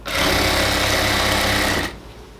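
A sewing machine stitches elastic onto fabric for a ladies' pant, running in one steady, loud burst for almost two seconds before it stops abruptly.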